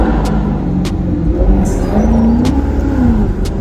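Maserati GranCabrio MC engine revving loudly, a deep rumbling drone that swells and climbs through the middle, heard close with a few sharp clicks over it.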